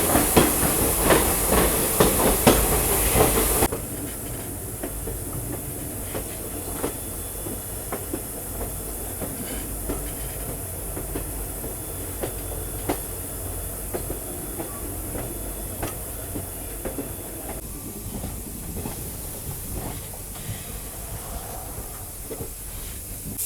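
Tinsukia Bangalore Express rolling through the Barak Valley in monsoon season, with a loud burst of wheel and track rumble at the start giving way to a steady rattle, clicks and hiss from inside the moving carriage.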